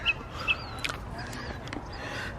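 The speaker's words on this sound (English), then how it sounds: "look at the geese" Geese honk faintly in the distance during an outdoor nature walk, giving a few brief calls over a steady wash of ambient background noise.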